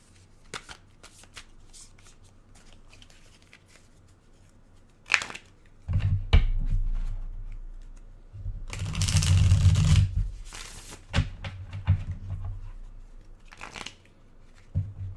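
A deck of cards is shuffled up close, with scattered light taps and riffles leading into a long, loud riffle burst, then more shorter shuffles.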